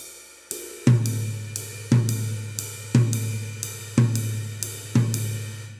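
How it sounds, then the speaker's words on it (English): A steady polyrhythmic drum groove with a bright ride cymbal striking even quarter notes over punchy low drum hits, close and loud, no voices. "so that the ride cymbal ends up playing quarter notes."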